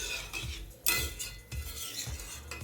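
Dal tadka is stirred with spices in a pan, giving repeated scraping and clinking strokes of a utensil against the metal, close and rhythmic in a few sweeps, with no talking.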